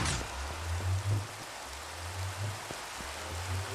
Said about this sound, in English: Hello, Rain.